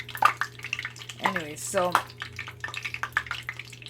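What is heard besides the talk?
tortillas bubbling in hot oil in a skillet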